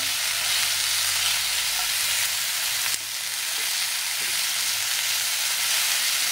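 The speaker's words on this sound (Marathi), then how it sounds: "एक मिनिटभर हे छान परतून घेऊया" Garlic sizzles in a hot pan for chicken masala, a steady close hiss of frying broken by an occasional stir, with no voices.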